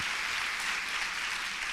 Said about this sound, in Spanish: Bueno, puedes aplaudirle, ¿no?